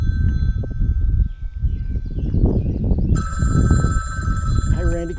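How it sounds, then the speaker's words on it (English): An old telephone rings repeatedly at close range with a steady bell-like trill, while someone talks over it and rustling movement sounds nearby. "there's the phone"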